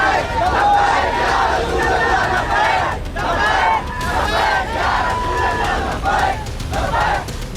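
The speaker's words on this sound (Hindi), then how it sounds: "इसके बावजूद भीड़ की नारेबाजी बंद नहीं हुई।" A large crowd in Nagpur during unrest chants slogans in repeated rhythmic bursts of massed voices, loud and close, with shouting and babble between the chants.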